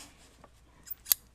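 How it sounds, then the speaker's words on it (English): Scissors cut paper for a memory journal craft, giving a couple of quick, crisp close-up snips in a quiet room. "So you just want to cut this."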